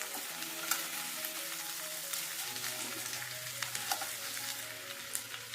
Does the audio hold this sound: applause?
no